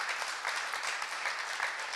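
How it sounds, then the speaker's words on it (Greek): Warm applause from a studio audience during a festive Cretan television broadcast, a steady dense wash of clapping hands held at an even level for the whole stretch, with no voices over it. "Ένα θερμό χειροκρότημα."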